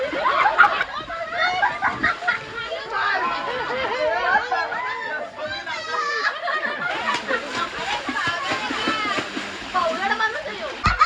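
Water splashes and sloshes in a swimming pool as people play tag, with constant lively chatter, shouting and laughter over the splashing throughout.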